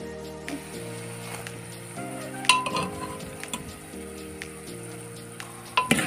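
Boiled peas frying in a masala with oil in a pan, a light sizzle under clinks and scrapes of a spoon stirring against the metal, close up and without speech.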